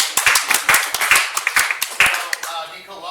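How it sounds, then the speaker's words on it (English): Short round of audience clapping at a conference session, crisp, distinct claps in an uneven rhythm that thin out and fade near the end, with some talk underneath. "Give him a round of applause for that right there."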